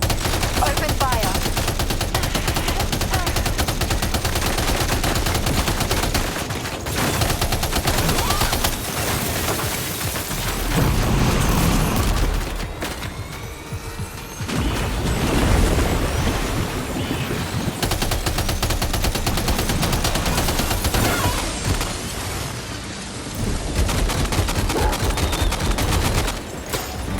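Sustained bursts of gunfire in the Death Stranding 2 video game, loud and dense with rapid automatic fire and scattered shots, continuing with brief lulls over about half a minute, with voices occasionally heard under it.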